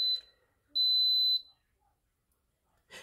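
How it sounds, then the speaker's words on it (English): An Instant Pot pressure cooker beeps as it starts: a brief high beep, then a longer sustained tone, with quiet kitchen background between. "when you start your pressure cooker, you're going to hear a beep first"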